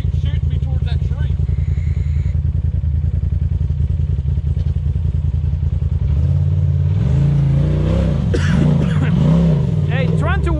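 An off-road utility vehicle on the rocky Windrock trail revs hard with tires spinning, a steady loud engine drone that climbs into rising and falling revs, with voices talking over the noise.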